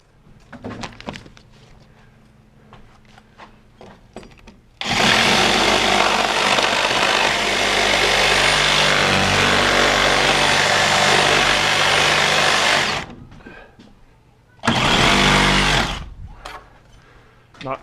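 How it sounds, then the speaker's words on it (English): Sawzall reciprocating saw cutting through a wooden wall plate during home construction, two loud bursts of harsh buzzing, one long and one short, with quieter knocks and handling noise before and between them. "So I gotta go get my Sawzall and we'll cut it out."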